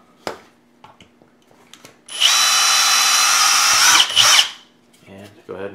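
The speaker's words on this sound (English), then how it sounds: "now you drill. Let's punch the second hole." A power drill runs steadily for about two seconds, punching a screw hole through the plastic of a Spirit Halloween Ghostbusters proton pack, then winds down with a brief second burst; it is loud and close, with small handling clicks before and after.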